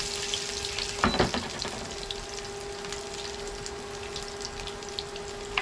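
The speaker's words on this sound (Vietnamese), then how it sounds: "Thì chiên cơm chiên trứng ăn thôi các bạn." Rice and eggs frying in a pan with garlic, a steady close sizzle running throughout, with a brief burst of clatter and stirring near the start.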